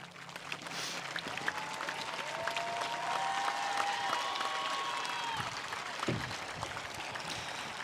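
Audience applause at a high school graduation ceremony as military veterans stand, a steady broad clapping from a large crowd that swells midway and continues throughout, with faint tonal sounds over it.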